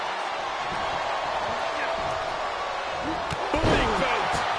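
A wrestler's face is slammed onto the mat in the WWE 2K23 video game, a sharp thud cutting through a steady crowd roar while a commentator talks.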